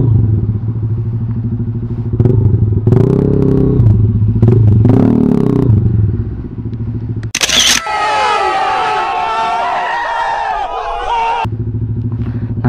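A Rusi Flash150i motorcycle fitted with a Naka SC Project muffler idles with a deep, loud exhaust burble and revs in short bursts in second gear, with a sudden sharp noise and a stretch of clattering, voice-filled commotion in the middle.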